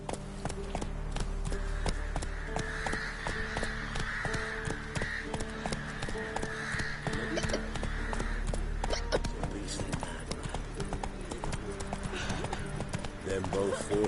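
Horse hooves clip-clop in a steady rapid rhythm while riding in a video game, with a constant in-game background of other sounds and a brief voice urging the horse on.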